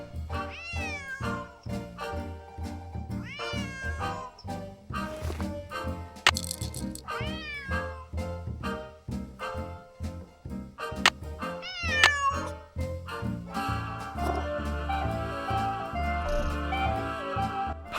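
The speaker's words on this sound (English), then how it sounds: "Otherwise, he'll just keep meowing." A cat in the video game Nancy Drew: Secret of the Old Clock meows repeatedly, about six rising and falling cries at irregular intervals over soft background music and small rattles.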